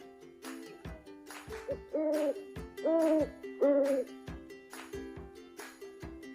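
Three distinct hooting calls in a row, like an owl, sound over a rhythmic musical backing with percussive beats.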